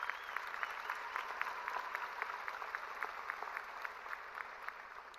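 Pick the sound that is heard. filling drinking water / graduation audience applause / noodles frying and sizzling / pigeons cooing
graduation audience applause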